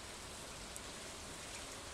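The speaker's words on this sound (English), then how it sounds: "Oh, we got rain 2 days in a row." Steady rain in the Stardew Valley video game, an even, soft hiss of falling drops with no talking over it.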